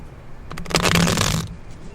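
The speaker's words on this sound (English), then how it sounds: "I'm going to be shuffling from the deck" A deck of tarot cards is riffle-shuffled once, giving a quick close burst of fluttering, snapping card flicks that lasts under a second amid a quiet room.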